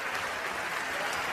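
A short burst of steady clapping rises from the audience at the Premios Gardel awards ceremony, a dense crowd applause with faint voices mixed in.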